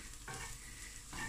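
Chopped spring onions cook in a hot pot with a low, even sizzle, and two brief scraping strokes of a stirring spoon stand out close by.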